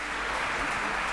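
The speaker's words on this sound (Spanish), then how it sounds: "Otro aplauso para ambos fantásticos oradores." Dense, steady applause from a conference audience after talks on climate and energy, continuous clapping filling the room with no pauses.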